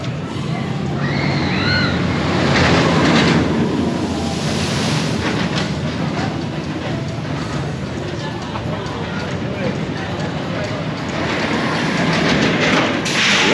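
A SheiKra B&M dive roller coaster train at Busch Gardens Tampa rolls along with continuous loud rumbling and clattering, heavy wind buffeting and a brief high squeal early on, with riders' voices mixed in.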